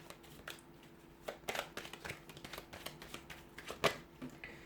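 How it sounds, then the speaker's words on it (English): Tarot cards are shuffled close up in quiet bursts of soft riffling and flicking, with a few sharper snaps, and no talking over them. "So we'll give the cards a shuffle"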